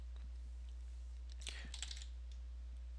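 Computer keyboard typing during optics lens-design software work: a short, quiet burst of keystrokes near the middle, with near-silence around it.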